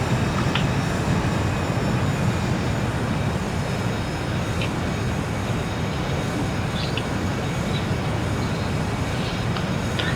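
A Challenger 300 business jet taxis in the X-Plane 11 flight simulator, giving a continuous, even engine roar with faint high ticks and no talk.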